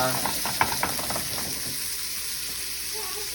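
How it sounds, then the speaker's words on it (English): Shrimp searing in a hot pan give a steady sizzle and hiss, with a few light clinks and stirring noises early on. "So in a hot pan, I am going to place my shrimp inside and cook it"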